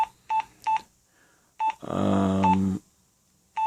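Short electronic keypad beeps from a Nokia Mobira Talkman 620 mobile phone in a quick rhythm, then a longer buzzing tone, followed by more isolated beeps, close and clear.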